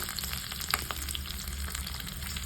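Small onions sautéing in oil for a peanut chutney make a steady, dense sizzle with occasional light crackles, faint and close, with no voices.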